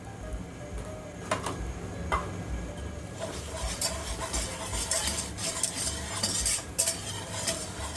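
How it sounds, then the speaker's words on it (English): Sugar is whisked into a milk pudding mixture for mahalabia, with rapid metallic tapping and scraping of a whisk against the bowl, quickening and growing busier after a few slower strokes. "at this point I'm going to use a whisk because we don't want any clumps in here"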